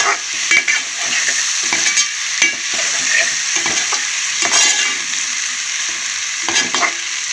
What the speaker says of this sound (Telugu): ఇది ఆయిల్లో బాగా ఫ్రై అయిపోతుంది